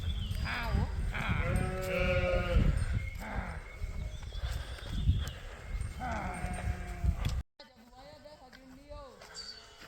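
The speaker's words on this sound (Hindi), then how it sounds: "ये सारी भेड़ बकरी हैं यहाँ पे।" A flock of sheep and goats bleats continuously nearby, many overlapping calls in a dense outdoor chorus, then a brief drop before scattered bleats resume more distantly.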